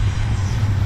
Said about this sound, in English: Here comes two more engines